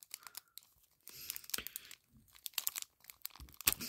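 A Pokémon card booster pack is torn open by hand up close, giving bursts of crinkling foil and ripping wrapper noise separated by short pauses.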